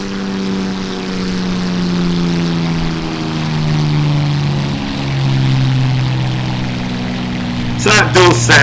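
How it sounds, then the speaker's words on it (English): A Supermarine Spitfire's Merlin engine in a flight simulator drones past with a steady, loud harmonic roar whose pitch slides downward as it goes by, and a brief clatter breaks in near the end. "So that does sound probably a bit more like a Merlin going past."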